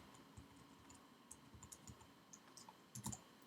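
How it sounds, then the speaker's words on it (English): Keys on a computer keyboard tapped in short, scattered clicks as numbers are entered, quiet and close, with a slightly denser burst near the end. "So I'm just going to type in some numbers here."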